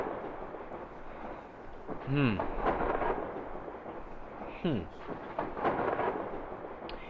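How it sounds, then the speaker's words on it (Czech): Deep rolling thunder rumbles through a stormy scene in the horror video game Kraven Manor, with low booms swelling twice and a steady storm bed underneath, while a person murmurs briefly. "Ale musí tam furt hřmít, to je hrozný."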